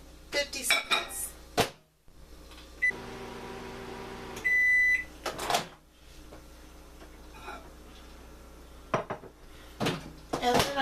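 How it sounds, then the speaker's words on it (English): In a home kitchen, dishes clatter and keypad beeps sound before a microwave oven hums steadily for a few seconds while heating a stick of butter, then stops with a beep before more clinking of dishes and utensils. "I'm going to microwave that butter for 50 seconds"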